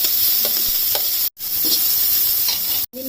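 Carrots for vegetable biryani fry in a pan with a loud, close, steady sizzle, with a few scraping stirs and two brief breaks in the sound.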